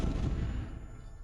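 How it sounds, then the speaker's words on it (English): A flaming sword strike sets off an explosion that shakes an inn. A deep, heavy rumbling boom starts at full strength and slowly fades over about a second. "A flash of flame followed by the sound of an explosion, shaking the entire inn with that one strike"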